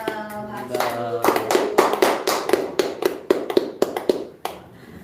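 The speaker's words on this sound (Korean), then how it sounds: "박수" Applause from a church worship gathering, with scattered hand claps building after a brief stretch of voice into a few seconds of uneven, fairly close clapping that thins out toward the end.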